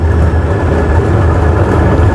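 A train starting to move, heard as a loud, steady low rumble and engine drone with rolling mechanical noise, continuous and close with no talking.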